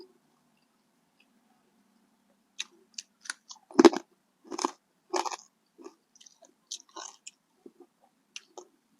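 Crunchy chewing and biting on fried crispy chicken wings, a series of close, crisp bites and mastication sounds in irregular bursts, loudest midway, with no talking.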